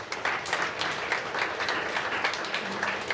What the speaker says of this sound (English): we kind of give everybody a round of applause